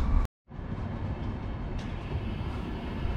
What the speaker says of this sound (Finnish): Juna menee tuossa